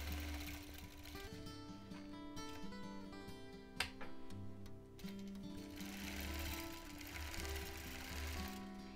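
A quilting machine stitches an edge-to-edge freehand design, its needle running in a fast steady mechanical whir with shifting speed and a brief sharp click midway, close and continuous with no talk.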